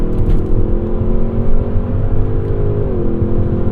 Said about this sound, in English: It revs pretty high for a motor like this